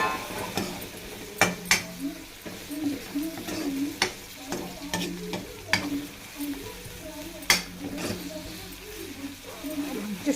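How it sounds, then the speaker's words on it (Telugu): Ginger, garlic and turmeric stirred in a frying pan, with scraping and clinking of a utensil against the pan in irregular strokes over a light sizzle, while a person talks throughout. "అల్లం వెల్లిగడ్డ పసుపు ఒకసారి కలుపుదాం."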